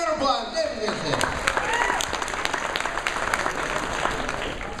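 An audience at the opening ceremony of AFW 2015 applauds David Vincent with steady, dense clapping that carries on for several seconds, with voices mixed into the crowd noise.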